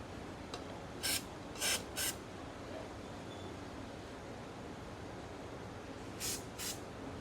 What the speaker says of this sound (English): I go ahead and spray right over the top of that bad boy just a little bit